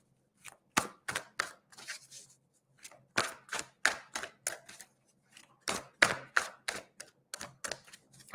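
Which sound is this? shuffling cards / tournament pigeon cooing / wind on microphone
shuffling cards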